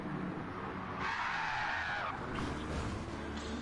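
A car skids on a handbrake pull into turn one in a racing video game, a rising and falling tyre squeal over a steady engine drone, faint and somewhat distant.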